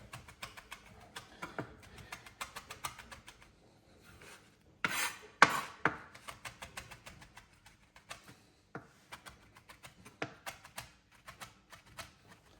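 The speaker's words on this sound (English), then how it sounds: "in the same way that we chop the garlic" A knife chops fresh thyme on a board in quick runs of light, crisp taps close by, pausing briefly between bursts, with a few louder knocks in the middle.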